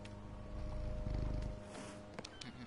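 Cat purring inside a video game, a steady low rumble that swells loudly mid-clip and then eases off, with small clicks and game sounds around it and no talk.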